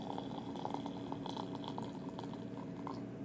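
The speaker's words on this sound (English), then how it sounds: "I'm just going to pour that in." Ti Kwan Yin oolong tea being poured at home, a steady, continuous splashing stream of liquid throughout, close up and fairly full, with no talk over it.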